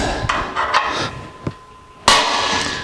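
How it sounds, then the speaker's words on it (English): A metal center punch is struck with a hammer against the steel frame of a 1949 Chevrolet gasser in a workshop. Several sharp, ringing taps sound close up, with one much louder clanging strike near the end. "we're going to go back to center punching and drilling holes"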